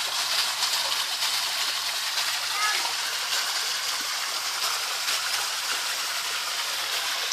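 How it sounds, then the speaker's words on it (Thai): Water from a pump-fed waterfall pours steadily into a backyard koi pond, a constant close rushing splash with no pauses across the whole stretch. "อันนี้เป็นปั๊มทำน้ำตกนะครับ"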